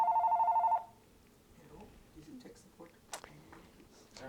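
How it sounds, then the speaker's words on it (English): An old-fashioned telephone rings with a loud, pulsing electronic trill for under a second, then stops, leaving quiet rustling and soft, faint voices. "We got a phone call."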